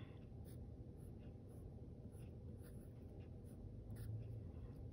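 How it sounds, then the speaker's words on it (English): Pen or marker writing on a paper pharaoh hat, a series of faint short scratchy strokes over a low steady background hum, close by. "I'm just going to write Egypt."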